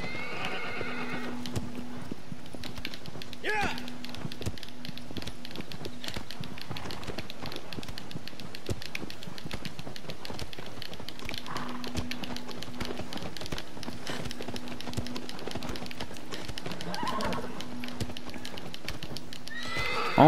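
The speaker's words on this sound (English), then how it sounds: "Oh my god, I will kill this horse." A horse in Shadow of the Colossus clip-clops in a steady rhythm of hoofbeats, with several loud neighs and whinnies breaking in over the gallop, close and continuous with no talking.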